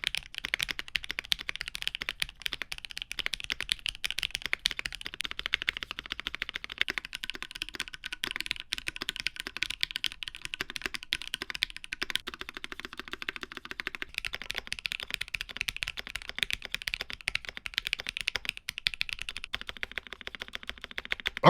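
A Bakeneko65 mechanical keyboard with a silicone insert and zinc weight is typed on steadily, producing rapid, muted, slightly hollow key clacks up close with no talking.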